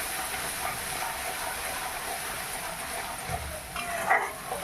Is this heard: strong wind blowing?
no